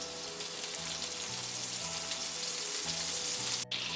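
Butter melting in a hot kadai for a rich wedding-style shahi roast gives off a steady, close, even sizzle with a fine crackle, with no voices.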